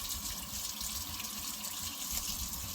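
Tap water running steadily to rinse salt-and-brown-sugar-cured home bacon, a constant close hiss with no pauses and no talking.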